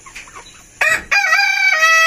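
A rooster crows loudly nearby in a long, harmonic call, preceded by a short sharp squawk and faint clucking from a flock including Chinese chickens in the background.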